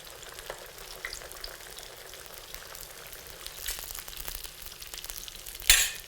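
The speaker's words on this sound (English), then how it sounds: "We left this kind of sambosak in the refrigerator for 1 hour, and now it's time for us to start frying them." Vegan celery and green onion sambosak pastries frying in hot oil, a steady soft sizzle and crackle throughout with a brief louder spatter near the end, no voices.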